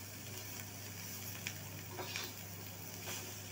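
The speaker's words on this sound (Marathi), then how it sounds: "तेलामध्ये मस्त फ्राय करायचे आहे 2-3 मिनटं." Dried shrimp (sukat) chutney frying in oil in a pan, a soft steady sizzle with faint crackles and a few small pops, low and continuous with no voices.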